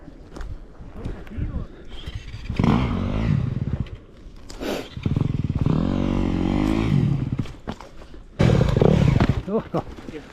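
Motorcycle engine on single track, revving in repeated loud bursts as the throttle opens, with harmonic engine tones rising and falling; a brief lull separates each surge.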